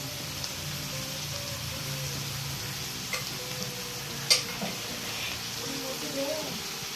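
Onions fry with mustard seeds in a pan, giving an even, close sizzle like light rain with a few faint taps, and faint voices murmur in the background.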